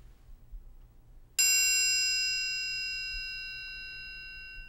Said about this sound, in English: listen as I strike the triangle on the closed side near the top